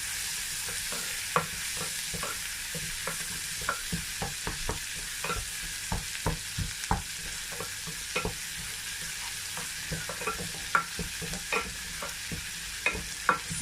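Spoon stirring curry powder and black pepper into beef pepper soup, sharp repeated scraping taps over a steady close sizzle of frying, with no talking.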